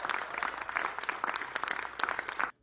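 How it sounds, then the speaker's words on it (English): An audience applauds at a formal announcement, a dense burst of clapping that fills the clip and then cuts off abruptly. "everybody's applauding because he managed to get through the second name"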